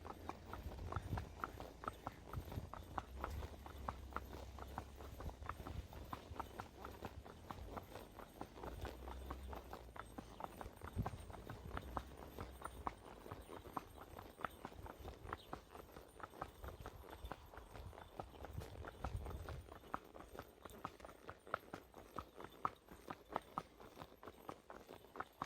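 Hooves of a ridden horse, nervous and walking, clip-clop in a steady, even rhythm close by. Faint low wind rumble sits underneath and a rider murmurs now and then.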